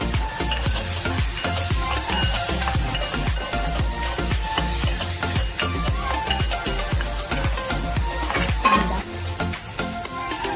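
Finely chopped onion and garlic fry in a pan for a Maharashtrian stuffed bitter gourd dish, a loud steady close-up sizzle with frequent stirring scrapes and clicks of a spoon throughout.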